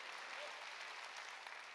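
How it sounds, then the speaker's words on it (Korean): Church congregation applauding during a Sunday worship service, a dense, steady burst of many hands clapping together at a moderate distance with no voices on top. "박수로 하나님께 영광 돌려"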